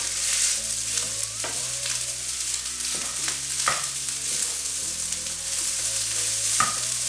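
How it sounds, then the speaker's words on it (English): Leftover fried rice with sausage and pineapple toasting in a hot pan, sizzling steadily up close while the rice is gently folded, with repeated scraping stirs breaking through the constant frying hiss. "we're kind of toasting up the rice as well"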